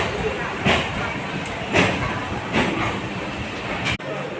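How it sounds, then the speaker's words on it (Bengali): A train pulls into Budge Budge station near Kolkata, with rhythmic clattering wheel bursts repeating every second or so under a steady rumble, and voices murmuring in the background. "ট্রেন ঢুকে গেল কুমাগাতামারু বজবজ স্টেশন"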